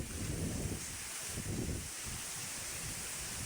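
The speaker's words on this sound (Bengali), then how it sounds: "আরো দেখাচ্ছি, দেখেন কি বাতাস।" Strong wind blows hard across an outdoor spot in Bangladesh where trees bend under a darkening pre-storm sky, a steady roaring rush with heavy microphone buffeting throughout.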